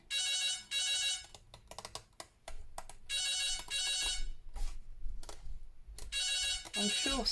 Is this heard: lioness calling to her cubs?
no